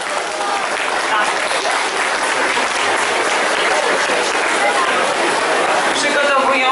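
Loud, dense applause from a festival crowd at a chicken soup cook-off in Łapanów, steady and sustained throughout with a faint murmur of voices underneath.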